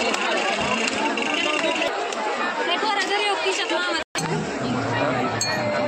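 A dense crowd chatters and murmurs at a temple during a Mahashivratri fair, a steady babble of many voices close by with occasional clinks, briefly cutting out once.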